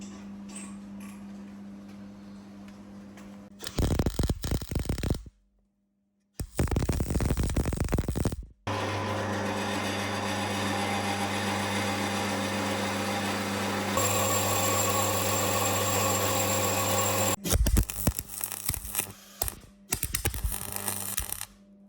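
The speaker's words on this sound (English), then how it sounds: "I'm just cutting out some uprights, which are shaped to the contours of the wheel tub and the chassis rail." An Audi/VW 1.8T engine-swap project: a power tool cuts out metal uprights shaped to fit the wheel tub and chassis rail, in loud harsh bursts broken by short silent pauses, followed by a long steady stretch of cutting.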